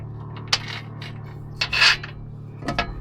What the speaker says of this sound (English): Slide both the bolts in.